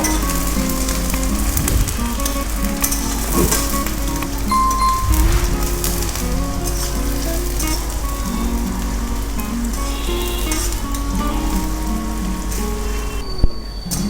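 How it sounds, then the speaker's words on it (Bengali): A steady, dense sizzle of chopped onions frying in a pan until browned, continuous and close, with faint kitchen clatter in the background. "পেঁয়াজটা লাল লাল করে ভেজে নেব"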